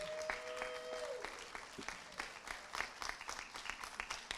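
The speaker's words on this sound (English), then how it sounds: "let our audience give you one more hand clap of appreciation" Audience applause for spelling bee finalists at a county spelling bee, a steady patter of many hands clapping indoors, moderately loud and continuous throughout, with a brief steady tone early on.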